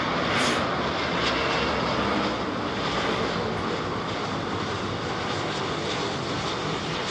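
An airplane comes in to land at London Heathrow, heard as a distant, steady jet roar with broadband rumble that holds level throughout, with no voices over it.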